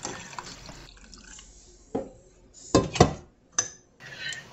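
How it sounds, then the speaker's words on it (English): Rice water strained from a container into a glass jar, heard as a few close clinks of glass and crockery and short splashing pours, with quiet gaps between them. "we strain it into the jar and voila!"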